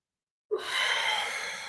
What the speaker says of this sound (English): I'm breathing into it.